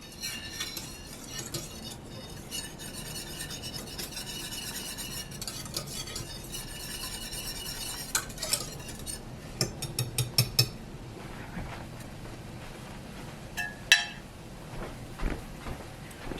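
Rapid whisking of grits in a pot makes a quick rhythmic scraping and clinking of metal against the pan, continuous and close, with a few louder knocks toward the end and no speech.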